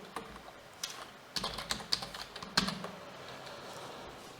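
Keys clatter on a computer keyboard in a quiet room, a run of soft irregular taps with a few sharper strokes, close and fairly faint, with no talking.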